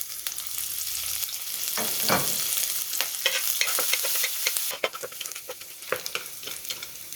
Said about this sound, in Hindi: अब हम इसमें डालेंगे चॉप किया हुआ लहसुन और बारीक कटी हुई हरी मिर्च।